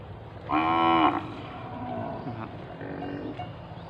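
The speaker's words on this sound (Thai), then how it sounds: "บรรยากาศของงัวพี่น้อง นี่มันจะกินหญ้าครับพี่น้อง" Cattle grazing in an open rice field, with one loud close moo followed by a fainter, shorter low call a couple of seconds later over a soft outdoor background.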